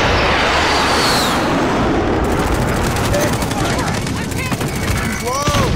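Heavy gunfire in the Call of Duty: Modern Warfare video game: dense, loud bursts and rapid automatic fire rattle almost continuously, with sharper shots cutting through near the end.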